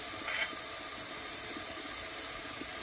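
Onions sizzle in bacon grease in a hot pan, a steady broadband hiss, close but fairly quiet, with no speech.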